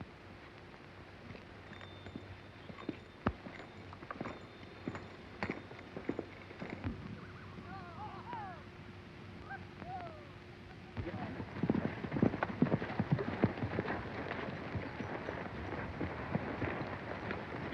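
Hooves clip-clop at a steady walking pace over a windy outdoor background, with a few faint voices and rustling noises mixed in.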